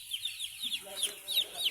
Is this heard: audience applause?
no